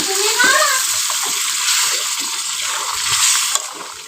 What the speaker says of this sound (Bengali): জল দিয়ে দিচ্ছি। এখন গরম জলটাই দিচ্ছি।